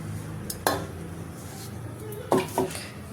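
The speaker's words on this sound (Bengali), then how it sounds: "এখানে একটা বসিয়ে নিয়েছি কড়াই এই দেখো দিয়ে দিচ্ছি তেল" A kadai wok being set down on a stove and oil poured in while cooking egg masoor dal, heard as a few sharp metallic clunks and clatters over quiet kitchen background.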